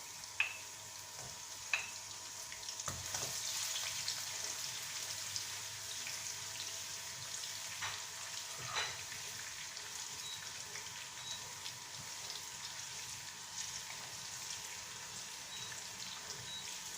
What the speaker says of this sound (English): Just add the onion, allow the onion to get fried a little bit.